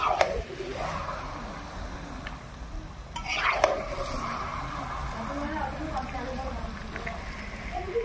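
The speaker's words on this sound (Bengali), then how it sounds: "এবার আমি মাংসটা কড়াইয়ে দিয়ে দিচ্ছি।" Meat being fried in a kadai (wok) after the spice masala is cooked down, a steady moderate sizzle with occasional sharper clinks and stirring sounds throughout.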